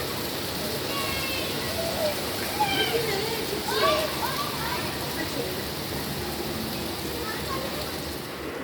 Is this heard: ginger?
no